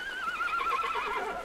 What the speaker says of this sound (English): they saw 3 men riding horses